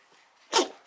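A single short sneeze bursts out sharply after a near-silent moment, loud and close, then quickly fades.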